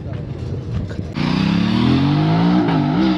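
A BMW S1000 RR motorcycle at the Valley Run event rises in a loud, climbing engine rev from about a second in, holding a high wavering whine close by after a brief stretch of quieter background.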